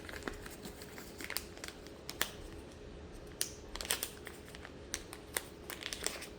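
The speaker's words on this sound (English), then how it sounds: "These pieces of plastic is very difficult to open." Plastic packaging for a DJI Osmo Action 5 Pro camera is pried and pulled open, giving faint, irregular crinkles, snaps and crackles close by in a quiet room.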